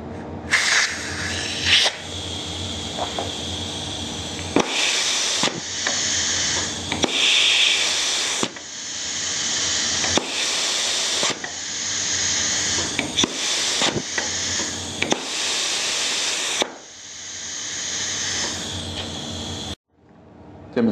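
Compressed air hisses through a 1/4 inch 3/2 raised button spring return pilot valve, a loud broadband rush in repeated bursts as the button is pressed and released, with short gaps between blasts.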